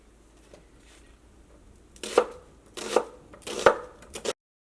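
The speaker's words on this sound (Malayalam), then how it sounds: "സവോളയൊക്കെ ആയിരുന്നാലും ഒട്ടും ഒട്ടും കനമില്ലാണ്ട് നല്ല കനം കുറച്ചിട്ട് കട്ട് ചെയ്യണം" A knife slices an onion very thinly on a board for a Kerala-style snack. Light taps come first, then a few crisp, distinct chopping strokes in quick succession, close and clear, before it stops abruptly.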